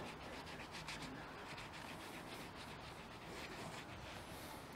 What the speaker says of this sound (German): den Knoblauch hier drauf reiben